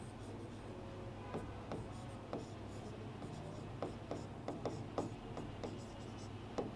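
Pen or marker scratching across a board or paper during a physics lesson on atomic models, with a series of short, uneven strokes and taps that cluster more densely in the second half over faint room noise.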